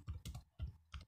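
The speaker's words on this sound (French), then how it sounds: "Dans la barre de recherche, on va écrire" Keys clatter on a computer keyboard as a search is typed into the Windows search bar, in four quick, close, crisp bursts of typing with brief pauses between them.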